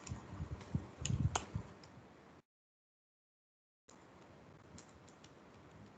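Keystrokes clatter on a computer keyboard while C code is written, a dense run of clicks with a louder burst of taps, then a gap of silence before steady, softer typing resumes.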